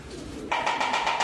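A racing pigeon arriving coos in short repeated pulses, close by, after a moment of low background noise.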